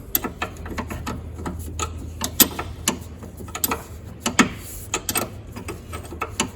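Ratcheting on an 11mm bolt atop a Bobcat 743 skid-steer gives rapid, irregular clicks and metallic ticks, close and moderately loud, with short bursts and pauses and no voices.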